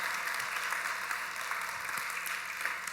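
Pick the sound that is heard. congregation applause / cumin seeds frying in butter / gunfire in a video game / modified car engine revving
congregation applause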